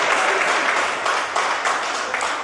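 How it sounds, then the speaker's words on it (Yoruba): A crowd at a Yoruba association's general meeting claps for an elderly woman, dense steady applause from many hands, close and sustained with slight swells throughout. "ẹ pàtẹ́wọ́ fún ìyá àǹkó."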